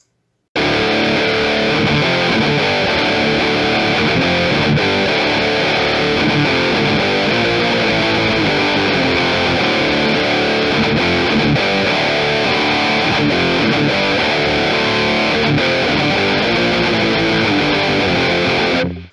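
A heavily distorted electric guitar plays a loud, dense riff continuously for the whole stretch, with no voice.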